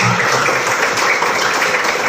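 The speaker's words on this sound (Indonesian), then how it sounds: "tepuk tangan dulu untuk kita semua" Audience clapping at a teachers' coaching and academic supervision session, a dense continuous patter of many hands at close range that lasts the whole moment without pause.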